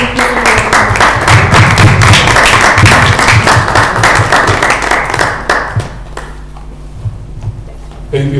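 An audience at an international business conference claps warmly as a speaker comes on stage, a loud, dense roll of applause from a large crowd that thins out and fades over several seconds.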